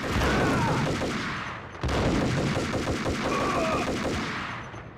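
Gunfire in the Max Payne 1 video game, a dense stream of rapid shots over several seconds, loud and close, with a brief break partway through before the firing resumes.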